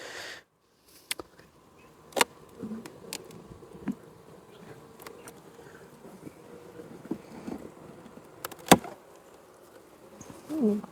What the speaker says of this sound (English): Hello, beautiful bees.